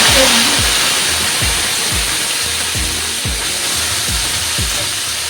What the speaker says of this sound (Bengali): তো তেলটা গরম হয়ে গেছে, এখন আমি দিয়ে দেবো সবজিগুলো।